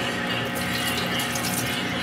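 Water recirculating through a parts washer used for cleaning RC car parts: a steady, close, continuous splashing trickle with no breaks, heard alone.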